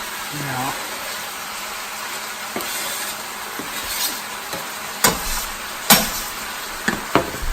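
Eggs poured into a pan of vegetable stir fry with Chinese cabbage and bok choy give a loud, steady hiss of sizzling, marked by several sharp clacks and scrapes of stirring toward the end.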